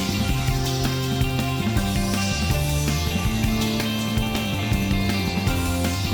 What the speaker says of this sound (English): It even sounds a little bit better with the rain sound effects from the frogs in the level